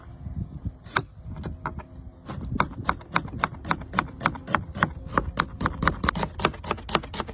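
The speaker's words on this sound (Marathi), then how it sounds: "कांदा कट करून घेऊ आपण" A knife chops onion on a board for egg masala rice. It starts with a few sparse knocks, then settles into a fast, steady rhythm of crisp, close chops.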